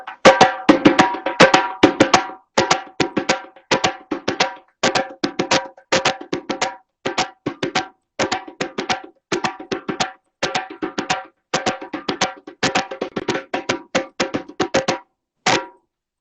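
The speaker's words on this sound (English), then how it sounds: "So one of the most basic parts they call like the passport rhythm" West African drumming playing the basic accompanying passport rhythm, a steady repeating pattern of sharp, bright hand strikes in clustered groups, loud and close, with no voices.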